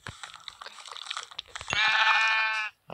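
A Minecraft sheep gives one loud, wavering bleat after a run of rapid crunching and chewing game effects. The bleat is close and cuts off abruptly.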